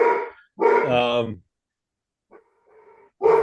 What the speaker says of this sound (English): Is that your dog going off there